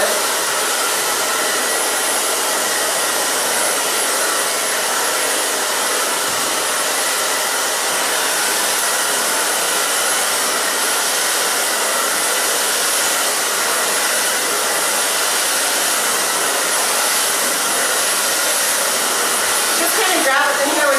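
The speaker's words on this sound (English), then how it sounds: "Grab the hair with your brush and just take the blow dryer" A blow dryer drying thick layered hair runs continuously and loud at close range, a steady broad airy whoosh with little change for the whole stretch.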